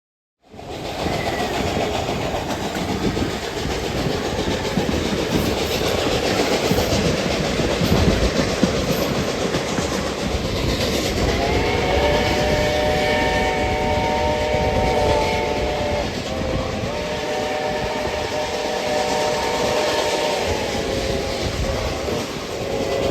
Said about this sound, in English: A former Lackawanna Railroad commuter trailer, this car was looking great at 108 years of age.